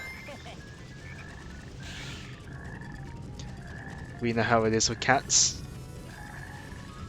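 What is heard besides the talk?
frog croaking in Sonic Heroes video game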